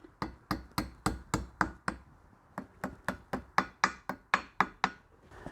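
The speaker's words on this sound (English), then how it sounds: "we're just going to tap it in with a hammer" A hammer taps a circlip into a universal joint on a Toyota Land Cruiser 80 Series: about twenty sharp metallic knocks in two quick, even runs with a short pause between them, close and clear with no talk.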